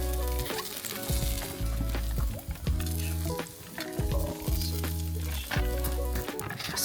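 Pork belly sizzles steadily over a campfire at an outdoor camping cookout, a constant frying hiss running beneath a rhythmic background beat.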